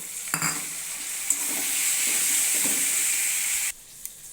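Cauliflower, carrots and peas fry in a pan with a loud, steady close sizzle and occasional stirring clinks. The hiss stops abruptly near the end.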